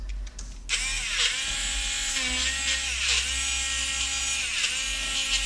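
A cheap $1.50 electric eraser's small motor whirs steadily and close after a quick start, its high buzzing pitch dipping and rising in short dabs as it presses against paper.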